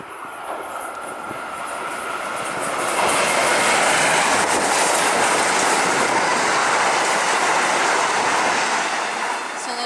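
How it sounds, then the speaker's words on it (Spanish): A train rumbles past nearby, growing louder and holding a steady roar of wheels and rushing noise for several seconds. "Mira, viene el tren"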